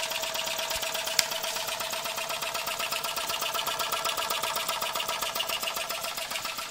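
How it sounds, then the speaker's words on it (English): An old steam donkey engine runs slowly on low steam pressure, a steady rapid mechanical chugging and clatter with a faint hiss, close and continuous, with no talk over it. "Donkey engine."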